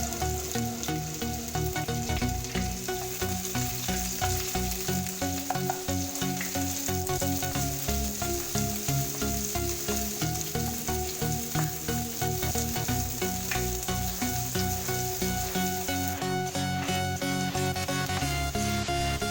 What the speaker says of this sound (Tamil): எண்ணெய் சூடானதும் கட் பண்ணி வச்சுருக்க ஒரு வெங்காயத்தை போட்டு நல்லா பொன்னிறமாக வதக்கணும்.